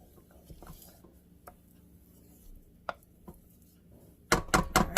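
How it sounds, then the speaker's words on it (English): Hot process goat milk soap is stirred in a pan, with scattered soft knocks and scrapes, then a loud, close burst of rapid clattering spoon strokes against the pan at the end. "Let's give it a good stir again."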